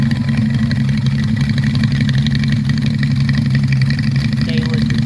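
A 1989 motorcycle with stainless exhaust idles steadily and loudly up close, a constant low rumble with no change in pace for the whole stretch.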